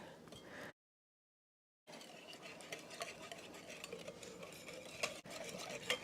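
A whisk beats biscuit batter containing coconut flour, baking powder, garlic powder and Italian seasoning, a rapid, even rattling scrape close up, broken once by a brief silence before the steady whisking resumes.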